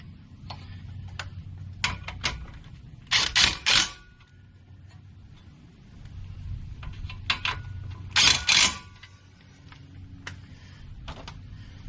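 An impact wrench zips bolts tight on a 2013–2016 Honda Accord steering knuckle in two loud rattling bursts, with lighter mechanical ticks and clicks in between, close by and with no talking.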